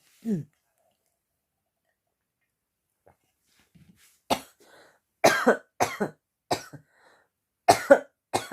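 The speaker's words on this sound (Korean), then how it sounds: "자, 기침이 좀 나왔어요." A single short cough from a mathematics teacher during a lesson opens the clip, followed by silence and then the teacher talking close to the microphone.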